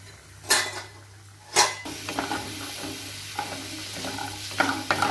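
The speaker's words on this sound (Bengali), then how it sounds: "ভেজে নেব বড়িগুলো।" Bori lentil dumplings frying in a pan for shukto, a steady close sizzle with two sharp clatters of utensils at the start and lighter scraping stirs afterward, no talking.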